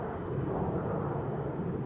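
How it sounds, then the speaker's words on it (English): A KLM Boeing 777-300 departs Amsterdam Schiphol for Paramaribo, Suriname, its engines a steady low rumbling roar, moderately distant and even in level, with no voices. "this is KLM flight 713 to Paramaribo in Suriname. It's a 777-300 the PHBVS"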